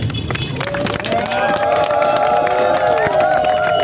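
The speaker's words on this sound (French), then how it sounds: "je voudrais vraiment que vous puissiez applaudir pour lui" A large crowd at an outdoor gathering cheers and applauds together, a loud, dense roar of clapping and shouting voices that swells after the first second and holds steady throughout.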